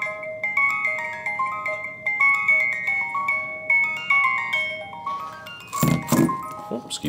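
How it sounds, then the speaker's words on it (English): A tiny serviced music mechanism inside a Reuge necklace pendant chimes out a sweet plinking tune up close, then a few sharp clicks and handling clinks interrupt near the end as the melody carries on. "I fully service the miniature musical mechanism, so it plays perfectly."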